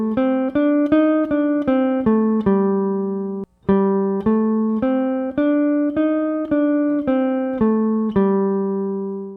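The Kansas City blues scale is played as a run of clean, separate notes going up and back down, then repeated after a brief pause, each note ringing and decaying in turn.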